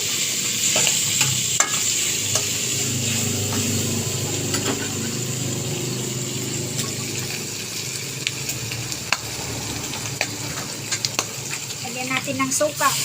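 Pork adobo in a pan is stirred with a spatula over a constant frying sizzle, with repeated scraping and clicking strokes growing busier near the end.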